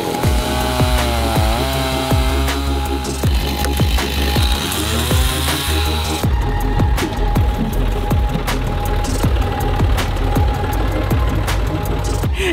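A chainsaw runs loud and close while cutting wood during clearing under a power line for a fence, its engine droning continuously throughout with rough, rasping bursts.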